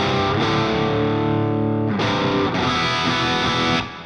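Hard-rock electric guitar with light distortion through the bridge humbucker, loud close sustained power chords with a few sharp changes and a brief break before ringing out.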